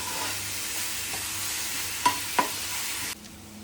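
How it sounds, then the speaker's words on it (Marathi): Ground garlic and green chili paste hits hot oil with browned onion in a pan, a steady loud sizzle with two sharp utensil knocks near the end before the frying drops away. "आता आपण हा लसूण मिरचीचा जो मिक्सरला ठेचा जो ग्राइंड केलाय तो टाकूया आणि चांगला फ्राय"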